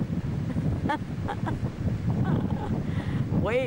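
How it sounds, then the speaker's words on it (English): Ocean waves and surf at a San Diego beach, a broad continuous rush mixed with heavy wind buffeting the microphone, with faint voices and brief higher sounds in the background. "Waves are really going."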